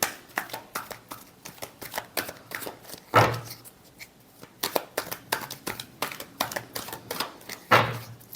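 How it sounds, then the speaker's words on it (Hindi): A deck of oracle cards being shuffled by hand, a quick run of crisp riffling flicks with two louder slaps where the deck is squared, close and clear. "Last shuffle."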